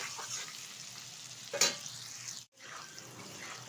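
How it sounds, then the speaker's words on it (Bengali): Potatoes and prawns stirred and fried in oil, a close sizzle with a sharp scrape or clatter partway through and a brief drop-out before the frying hiss resumes. "এখন আলু আর চিংড়ি মাছটা আমি ভালোভাবে তেলের সাথে নেড়ে চেড়ে নেব।"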